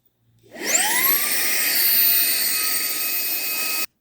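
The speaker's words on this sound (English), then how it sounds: "We're gonna see how well it sucks up with this big stuff." A Ryobi HP stick vacuum spins up with a rising whine and then holds a loud, steady high-pitched roar as it sucks up large debris, cutting off abruptly at the end.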